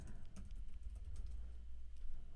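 Typing on a computer keyboard during a live-streamed WordPress plugin update: a quiet, steady patter of key clicks over a low room hum, close to the microphone.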